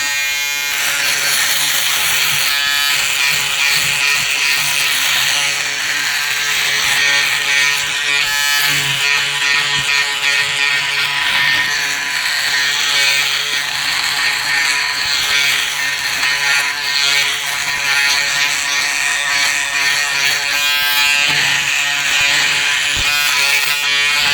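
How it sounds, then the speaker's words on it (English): A Braun Series 7 360° Flex electric foil shaver hums steadily at close range, a constant bright buzz that runs without pause for the whole stretch. "let's stick the shaver head back on. Let's let it go. Let's let it rip."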